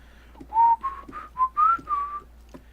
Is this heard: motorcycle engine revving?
no